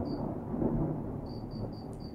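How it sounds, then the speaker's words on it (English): Low rumbling thunder rolls through a rainstorm, a broad steady murmur with a swell near the middle, heard alone with no voices. "I hope you can hear thunder"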